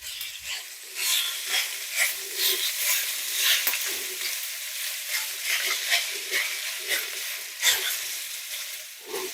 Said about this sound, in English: So I'm going to be adding in my ground beef.